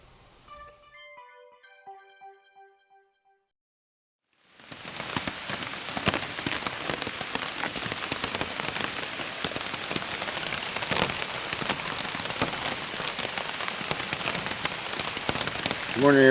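Rain falling on a tent at night, a dense steady patter of drops that comes in after a quiet stretch and stays loud and close, with faint tones and near silence before it.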